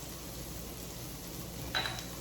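Diced onion sizzles as it goes into a paella pan for paella valenciana, a soft steady frying hiss with a faint clink of a utensil near the end.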